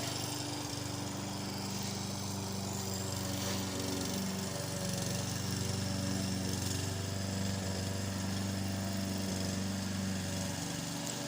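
A lawn mower cutting a yard, its engine droning steadily with a constant hum and buzzing overtones for the whole stretch, even and moderately close with no voices.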